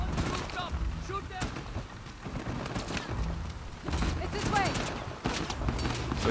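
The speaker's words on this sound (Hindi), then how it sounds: "इस बारी पकड़ लिया इसने और हमें गोलियां पड़ रही हैं जबरदस्त वाली।" Gunfire in the video game Uncharted: The Lost Legacy, scattered shots and bursts at moderate distance under in-game noise, with a voice talking over it.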